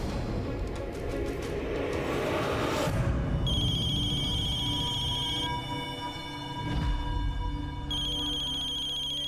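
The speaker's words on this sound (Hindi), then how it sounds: "श्वेता काहे ना फोन उठावत हो?" A telephone ringtone plays in repeated bursts with short pauses between them, loud and clear over a low background hum in a domestic TV-drama scene, with no talking during the ringing.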